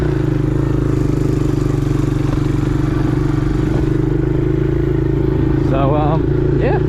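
An X-Pro Storm 125 motorcycle engine drones steadily and loud at close range, its low rumble constant throughout, with a voice briefly calling out near the end.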